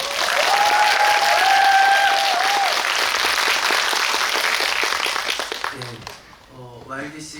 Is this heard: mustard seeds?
no